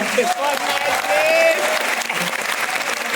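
Applause from the audience at a TEDx talk at Bundelkhand University, Jhansi, greeting a social media content creator as she takes the stage; steady, dense clapping fills the hall, with a voice speaking over it.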